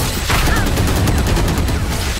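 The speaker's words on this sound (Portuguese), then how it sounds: "Dá tiro, Sobo." Rapid, dense bursts of gunfire in the game Valorant crackle continuously in a loud, busy mix, with a voice faintly underneath.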